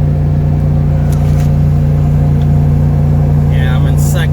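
A Chevy 3500 dump truck labors uphill in second gear with the pedal floored, its engine putting out a loud, steady, low droning hum with a constant deep tone that never lets up.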